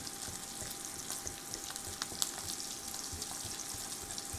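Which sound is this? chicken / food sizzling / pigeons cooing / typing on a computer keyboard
food sizzling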